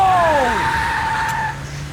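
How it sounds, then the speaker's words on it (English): A car in the video game Max Payne 3 drives loudly and skids, its engine and tire squeal sweeping downward in pitch before settling into a steady motor drone. "Just drive the fucking car."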